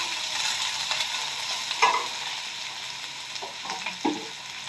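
Onions, curry leaves and dried red chillies sizzling in a pan, a steady frying hiss broken by a few scraping stirs of a spatula, close and fairly quiet.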